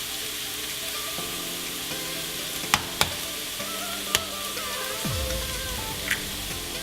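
Ingredients for chili crab frying in a pan, a steady, moderate sizzle with a few sharp clicks and taps, quiet music underneath and no one talking.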